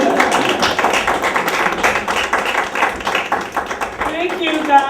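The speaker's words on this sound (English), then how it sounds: "Clapping through all the hugs" Graduation-day applause from an audience, a steady dense wash of hands clapping throughout, with voices chattering underneath and a brief higher-pitched voice near the end.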